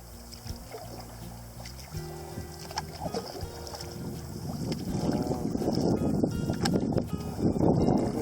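A canoe is paddled across a Boundary Waters lake into a headwind. Gusting wind noise and water splashing swell steadily louder toward the end, with no talking.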